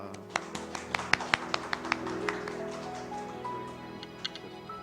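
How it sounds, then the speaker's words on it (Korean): At a Korean church's spring revival service, a congregation claps irregularly to welcome the preacher, with scattered sharp claps over sustained keyboard tones. "우리 뜨겁게 환영하고 기대하고 소망하며 박수하겠습니다"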